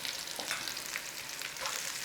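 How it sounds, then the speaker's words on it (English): Onions and peppers stir-frying in hot oil over a flame, a steady loud sizzle with soft stirring shuffles throughout, close and continuous. "we're just going to stir fry off some veg"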